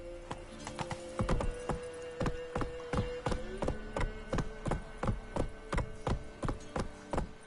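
A horse gallops in the video game The Witcher 3, steady rapid hoofbeats thudding close and loud in an even rhythm, with faint background game sounds.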